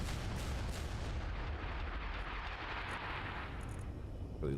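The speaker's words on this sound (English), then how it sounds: "I had a heart attack over my own cannons." Spaceship cannons firing in a space video game, a thick rumbling barrage of rapid heavy blasts that rolls on without pause, loud and close, easing slightly toward the end.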